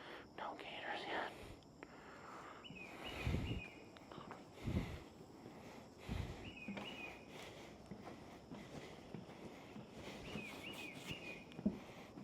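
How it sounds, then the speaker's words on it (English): Birds in Corkscrew Swamp Sanctuary, Florida, with a few faint, brief repeated whistled calls from a distance, heard over soft footsteps and quiet whispered talk. "I hear the birds."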